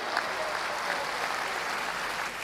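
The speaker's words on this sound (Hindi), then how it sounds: "एक बार आपकी जोरदार तालियां।" An audience at a Hindi conference claps loudly and continuously, dense even applause filling the hall without a break.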